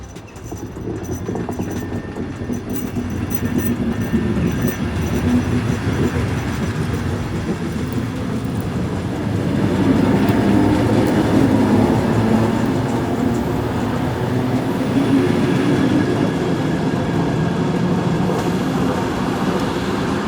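A 1970s Dutch Mat'64 electric train rolls past on the Valleilijn, a steady loud rumble of wheels on rails that swells midway as the carriages go by, with a rhythmic clatter over the rail joints and no voices.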